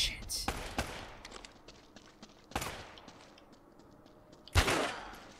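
Gunfire in Uncharted: Drake's Fortune, a handful of sharp, loud shots with a few scattered ones, mixed with game noise and a voice talking at times.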